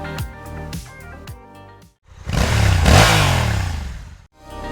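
CFMOTO 1000SR motorcycle with a 1,000 cc 90-degree V4 engine, loud sharp revs rising and falling, with one long surging rev in the middle and short bursts either side, under no talking.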